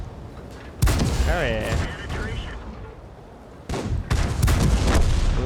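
A tank cannon fires in the World of Tanks game, with a loud boom followed by rumbling, and a second blast after a few seconds. Someone speaks briefly over the gunfire.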